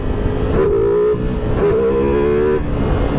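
A 2023 Ducati Multistrada V4 Rally motorcycle engine revving hard in two rising bursts as it accelerates for a wheelie, loud and close with a sharp tonal whine over rumbling wind noise.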